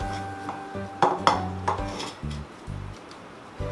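Metal spoon scraping and tapping against a tray while spreading wheat burfi mixture evenly, a handful of clinks and scrapes with short pauses between, close and fairly quiet.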